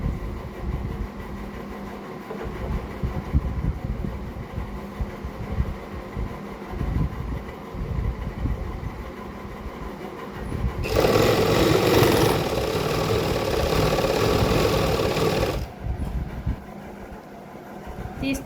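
Sewing machine stitching a salwar, a quiet whirring hum with faint clatter for most of the stretch, then a louder, faster burst of running stitches before it eases off again near the end.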